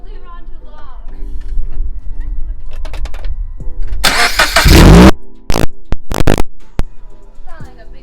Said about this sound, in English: I actually want to start the vehicle with this on, just to see how loud it is.